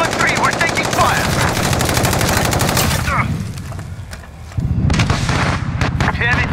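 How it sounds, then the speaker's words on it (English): Rapid gunfire in the Call of Duty Modern Warfare video game during a team deathmatch: fast automatic bursts with heavy booming, a brief lull, then more fire. Voices call out under the din. "We're taking fire."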